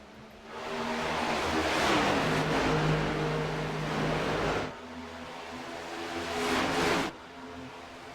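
Roaring race car engines sweep past on the front straightaway at Michigan in a BRR Cup series race, swelling loud twice with sharp cutoffs between passes and no talk.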